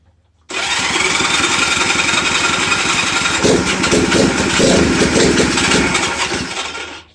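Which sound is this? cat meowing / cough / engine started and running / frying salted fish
engine started and running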